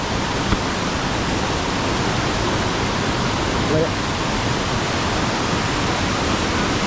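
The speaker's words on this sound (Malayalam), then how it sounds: "ഈ വെള്ളം വരുന്ന റോസ് മലയിൽ നിന്നാണ് വരുന്നത്" Palaruvi waterfall pours water down from the Rose hill forest area as a loud, unbroken roar of rushing water close by.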